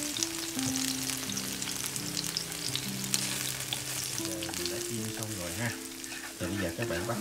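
Food frying in a pan while cooking vegetarian braised bottle gourd, giving a steady, close sizzle throughout with background music playing underneath.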